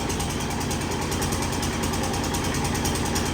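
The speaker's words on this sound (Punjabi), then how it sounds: "ਇੰਜਨ ਚੱਲਦਾ ਹੈ" A running engine gives a loud, constant droning rumble with a rapid, even pulse, close and unbroken from start to finish.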